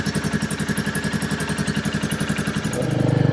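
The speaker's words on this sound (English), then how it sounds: "now what I'm going to do is I'm going to run the bike. I've got it in neutral." A Royal Enfield Meteor 350 motorcycle with a cat-delete pipe idles steadily in neutral with a rapid, even chugging pulse, close by, growing slightly louder and deeper near the end.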